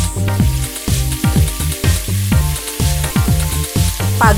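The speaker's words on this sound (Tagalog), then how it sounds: "Isunod, lutuin ang patatas." Potatoes fry in a pan for chicken caldereta, a steady hiss of oil and sizzling under prominent rhythmic background music.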